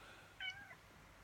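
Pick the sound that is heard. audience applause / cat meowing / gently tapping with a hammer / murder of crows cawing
cat meowing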